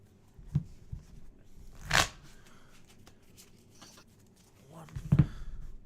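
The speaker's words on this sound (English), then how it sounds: "Now we can actually do the shuffle." Trading cards being shuffled by hand, a few short papery riffles and slaps separated by pauses, close and moderately loud, with a voice speaking in between.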